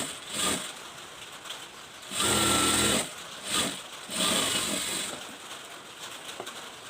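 A sewing machine stitches a blouse seam in short whirring bursts: a brief run, then longer runs separated by quiet pauses, close and clear.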